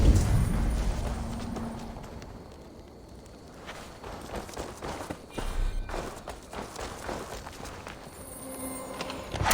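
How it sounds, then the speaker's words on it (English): Horse hooves walking in a video game: a steady run of clip-clop hoofbeats, moderately loud, with soft thuds and a low background bed and no clear talk. "Now to deliver Magni his horse"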